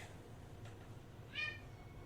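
A single short cat meow rises near the end, faint against a quiet low hum, with a soft earlier chirp.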